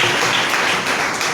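A church congregation applauds during a sermon, a dense, steady wash of clapping hands that holds evenly through the whole moment without pauses.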